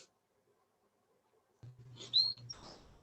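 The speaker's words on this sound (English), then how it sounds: "I heard your birds tweeting" Pet birds tweeting indoors, a few short high chirps arriving after a stretch of near silence, fairly faint over a low background hum, with no talking.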